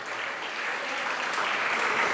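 Children clapping together at a religious discourse gathering, a dense continuous burst of applause that swells slightly louder over two seconds.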